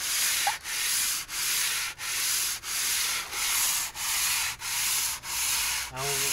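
A 4HL1 cylinder head is sanded by hand with sandpaper: steady, evenly spaced rasping strokes, about nine in a row, close and loud with short pauses between them.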